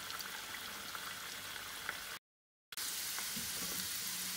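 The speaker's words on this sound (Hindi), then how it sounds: "बस थोड़ी देर के लिए हम लोग इसको और फ्राई करेंगे।" Potato french fries frying in hot oil give a continuous close, crackling sizzle, interrupted by a short moment of complete silence before the bubbling resumes.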